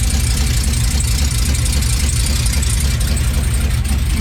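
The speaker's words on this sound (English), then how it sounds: "Now there is a big exhaust leak down here where the drive shaft hit." A cammed LT1 V8 in a 2017 Chevrolet Silverado idles with a big exhaust leak near drive shaft damage, giving a loud, steady, close low rumble with constant roughness throughout and no talking.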